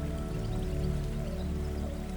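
A waterfall's soft, steady rush of water flows gently and continuously beneath a low, sustained musical drone.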